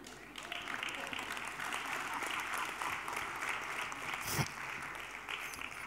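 An audience at a literature lecture gives faint, continuous applause that stays steady throughout, with a brief louder thump near the end.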